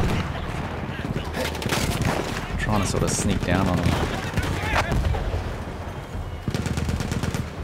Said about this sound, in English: All I can hear is just gunshots and screaming.